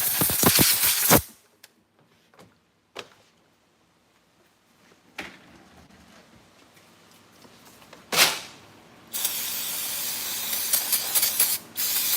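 Choke cleaner is sprayed onto the parts of a Stihl BG 50 or BG 86 handheld blower: a loud opening hiss, a few sharp short spritzes, a longer blast, then another sustained spray, up close with no voices.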